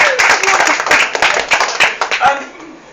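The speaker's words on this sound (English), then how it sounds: "A little round of applause." A short burst of hand clapping from a small group, loud and close, mixed with voices talking over it.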